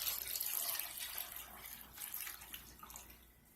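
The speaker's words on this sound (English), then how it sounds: "And I'm going to pour that in here and get this started." Hot lye water mixed with aloe vera juice poured into soap oils for hot process soap, a soft steady liquid splash and trickle that tapers off, faint and close.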